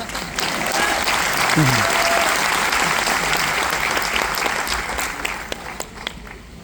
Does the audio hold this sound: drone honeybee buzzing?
no